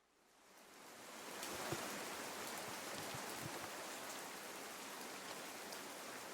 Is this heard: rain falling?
yes